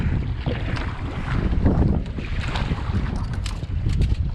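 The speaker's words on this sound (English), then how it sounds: "And wind is always strong here." Strong wind roars and buffets across an open swamp, a steady, loud rush with gusty swells that fills the whole stretch with no other clear sound.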